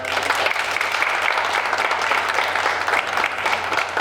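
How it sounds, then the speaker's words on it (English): A graduation crowd for the East Alabama Young Leaders program gives the graduates a steady round of applause, loud and dense, with many hands clapping continuously from start to finish. "Let's give a round of applause right there."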